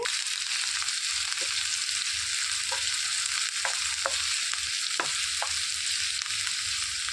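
Thinly sliced onions frying in oil with mustard seeds for a tangy tamarind-leaf onion curry, a continuous close sizzle with a few light stirring scrapes and occasional pops, no voices.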